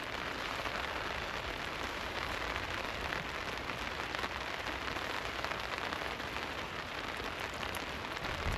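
Heavy rain during Storm Darragh pours steadily onto a tent at a campsite, a dense, even patter of drops that continues without pause, with no voices.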